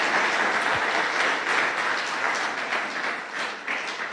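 Sustained applause from a church congregation honoring God at a Spanish-language sermon, a continuous crowd of clapping hands that stays broad and even, then eases slightly toward the end, with no voices on top.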